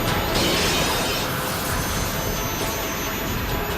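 The Wind Style Rasen Shuriken jutsu effect from the Naruto anime: a loud, steady, jet-like roaring whoosh of wind that fills the whole stretch without pause.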